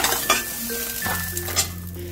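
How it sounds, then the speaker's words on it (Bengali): Fried eggplant pieces sizzle in hot oil in a pan as they are lifted out, with close, steady frying hiss, spatula scrapes and light metal clinks. "এবার আমি বেগুনগুলোকে নামিয়ে ফেলছি"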